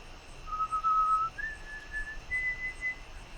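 Whistled melody from a played song in the style of a western film score with Native American flavour, a clear pitched tone rising in steps over a faint music bed, moderately loud and with no talk.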